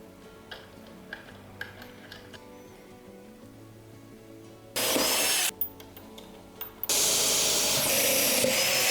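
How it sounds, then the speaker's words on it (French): A step drill bit countersinks a bolt hole in a woodworking job, heard as two loud bursts of steady drilling, the first about a second long and the second running to the end, after quieter ticking and handling noises. "je vais utiliser un forêt à étage. Ça va être pour fraiser un peu le trou"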